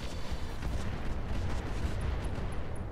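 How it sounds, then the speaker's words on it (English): Artillery barrage in the strategy video game Roguetech, a dense, rumbling wash of distant blasts and low booms rolling on without pause for the whole stretch. "There's the barrage."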